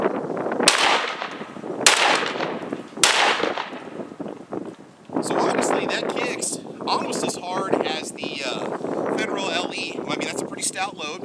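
Three sharp, loud 12-gauge blasts from a Beretta A300 Ultima Patrol shotgun fired outdoors, evenly spaced about a second apart. A voice then talks over wind noise.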